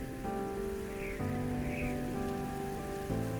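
Steady rain falls at the start of the rainy season over the red soil and leaf litter of Miombo woodland in North Luangwa, a continuous even hiss with no voices, though sustained tonal bands sit beneath it.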